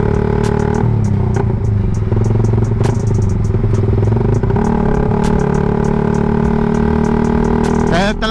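A Suzuki Raider 150 Fi motorcycle fitted with a CHA exhaust pipe runs at low RPM, a loud, close, throbbing engine note with a rattly edge, rising into a quick rev at the end.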